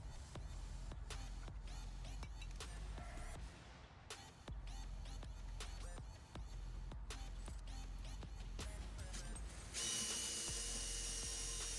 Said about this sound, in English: So after making those pilot holes, just going right back over with you quarter inch bit, just to make those holes bigger